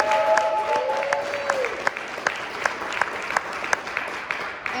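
Audience applause fills a civic event room, a steady bed of clapping with several individual sharp claps standing out close by, fading slightly toward the end.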